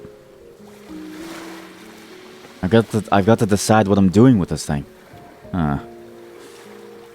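Ocean waves rolling onto the shore in a video game, a soft, steady wash of surf heard beneath someone talking, which covers it for much of the time.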